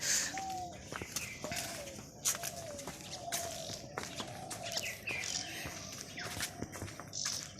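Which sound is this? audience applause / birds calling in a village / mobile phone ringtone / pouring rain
birds calling in a village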